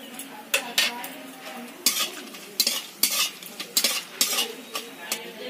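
Whole spices — two small green cardamom pods, cinnamon and cloves — along with dried red chillies and bay leaf hit hot oil, giving repeated sharp scraping stirs and clinks of a utensil in the pan over a light sizzle, without speech.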